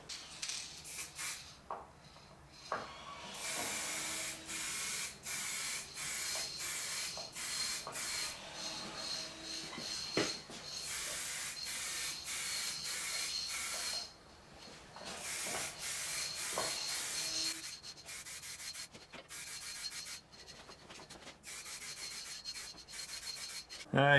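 Chrome spray paint going on as another coat, long continuous hissing bursts with brief breaks between passes, close and fairly steady throughout.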